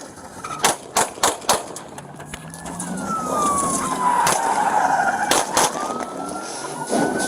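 Several sharp, loud gunshots crack in quick succession during an armed robbery arrest, an irregular burst of reports over a wailing siren and traffic noise outdoors.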